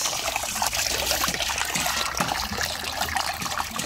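Water rushes steadily through a cloth filter (salaan) being washed, a dense continuous splashing flow that stays loud and even throughout with no speech.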